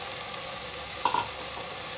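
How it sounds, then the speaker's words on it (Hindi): Vegetables, beans and potatoes, frying and being stirred in a pan in a home kitchen: a steady close sizzle with a couple of brief scraping stir clicks partway through. "अब हम इसमें वेजिटेबल मिला लेंगे, बीन्स और आलू।"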